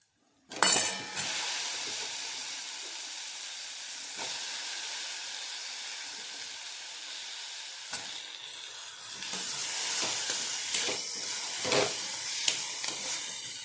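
Finely chopped red pumpkin sizzles and hisses steadily in a pan for a Maharashtrian village-style bhaji, with occasional scraping stirs breaking through the continuous frying noise.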